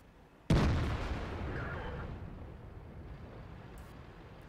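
One heavy tank cannon shot in the World of Tanks video game, a sudden sharp boom followed by a long rumbling decay that fades over several seconds.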